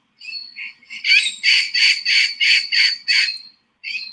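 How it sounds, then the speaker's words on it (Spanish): Parakeets call in a rapid series of shrill, squawking notes, loud and close, with a brief pause before a final call, alarm calls warning of a bird of prey in tropical dry forest. "aquí podemos escuchar la vocalización de unos pericos"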